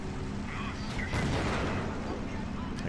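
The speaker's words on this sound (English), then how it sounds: "I can see the mortars here firing in all sorts of positions." Mortars firing in the WWII strategy game Men of War: Assault Squad during a Rhine battle, dull repeated booms blended into a dense, continuous battlefield roar with a voice talking over it.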